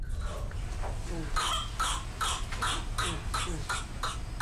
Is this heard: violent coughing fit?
yes